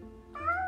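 A cat gives a single short, clear meow, fairly faint and close, alone without talk.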